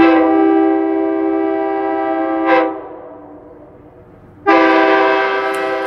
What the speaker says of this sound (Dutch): dan gaan we eventjes met de trein mee